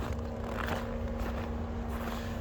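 Climate control runs in the cabin of a 2023 Subaru Solterra with the Luxury Package, a steady even blower rush with a faint constant hum underneath, heard from inside the car without talk.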